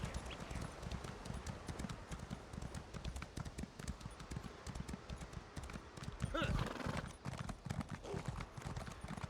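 Rapid, steady clip-clop of a horse galloping in the video game Elder Scrolls Online, running without pause, with a brief whinny partway through; a faint voice talks underneath.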